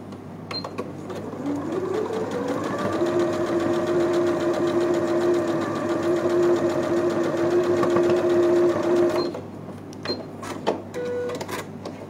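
A sewing machine runs steadily for several seconds stitching patchwork fabric, a close, even mechanical whir that spins up, holds, then stops, followed by a few small clicks.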